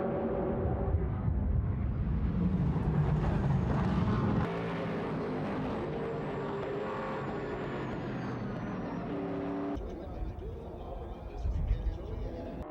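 Race cars, including a red Ferrari numbered 55, roar loudly and steadily around a track, engines droning with shifting pitch as they pass, continuous through the whole stretch.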